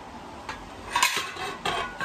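Made-in-Japan ceramic plates, bought cheaply at a recycle shop, clink and knock together as they are handled, with a few sharp bright taps over a faint background hum.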